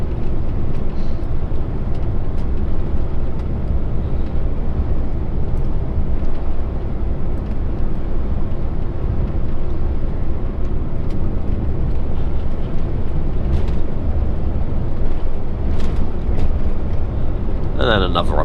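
An HGV truck cruises on a UK road under cruise control, giving a steady low engine drone and road rumble heard from the cab, with a driver talking over it.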